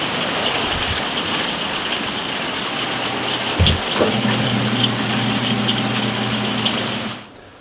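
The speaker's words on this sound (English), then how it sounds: "I can't believe how loud that rain is out there." Dense, steady hiss of heavy rain pours continuously outdoors, with a low hum underneath and a brief thump partway through, before cutting off at the end.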